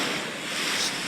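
Sea waves wash against the seashore in a continuous broadband roar. Wind buffets the microphone, and the surf sounds close and loud throughout with no distinct breaks.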